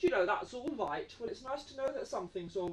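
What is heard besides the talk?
No everyday noise stands out behind the speech.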